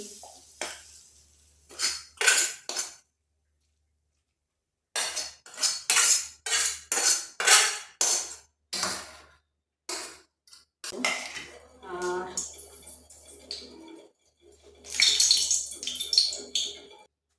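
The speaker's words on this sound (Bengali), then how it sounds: "এই আমার রান্না হয়ে যাচ্ছে, এবার আমি ঢেলে নিচ্ছি" A cooked vegetable dish is tipped out of a pot in a home kitchen: bursts of metal scraping and spoon clatter against the pot, separated by short silent pauses.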